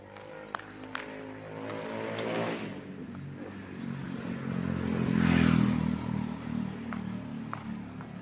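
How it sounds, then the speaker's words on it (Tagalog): A motorcycle engine rumbles and revs nearby, swelling louder then easing off, with faint clatter and distant background voices. "may ingay yung kanilang motorsiklo sa Tiatenga"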